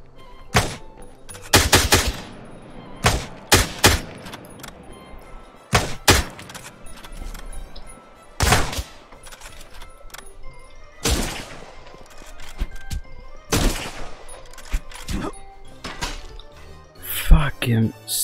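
Gunfire in the Miscreated survival shooter: sharp, loud shots arriving in irregular bursts and single cracks, some in rapid clusters, spread over a noisy background with thumps between volleys.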